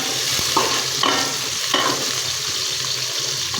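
Cumin being added to onion and garlic already frying in a pan, giving a steady close sizzle broken by a few sharp stirring scrapes over about four seconds, with no talking.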